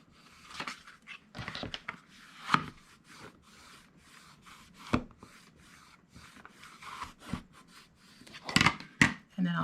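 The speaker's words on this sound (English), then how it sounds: "Then I'm also going to use that spatula to get in there and really get that spine nice and crisp." A spatula rubs and scrapes along a paper-covered book spine, creasing it in repeated short close strokes with uneven pauses, crisp papery swipes standing out in a quiet room.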